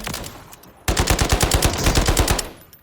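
A B&T APC300 submachine gun, BLK variant, fires in Warzone: a loud, close, sustained rapid burst of automatic shots lasting over a second and a half, then tailing off into quiet.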